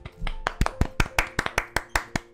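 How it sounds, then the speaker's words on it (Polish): Quiet, sparse clapping from a single person or a few people, a dozen or so sharp hand claps in an uneven but steady rhythm, close and fairly soft with no talking. "Krypson, ciche oklaski, ale trochę głośniej."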